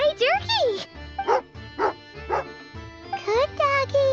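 A dog in the video game Genshin Impact gives repeated short barks and yips close by, between whiny, pitch-sliding voice sounds that may be a person imitating the dog.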